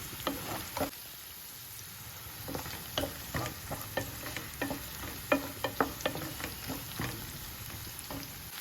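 Onion pieces, green chillies and curry leaves fry in oil while being stirred, a steady sizzle broken by repeated close scraping and clinking of a spoon against the pan, with no talk.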